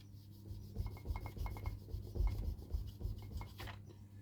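Dry, scratchy rubbing strokes as a Scalextric track rail is polished clean with metal polish, short repeated back-and-forth rubs close by and quiet, with no talking.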